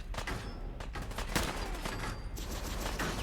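Loud, sustained gunfire from the Fallout 4 video game fills the whole stretch, sharp shots and bursts overlapping in a dense, steady barrage close up.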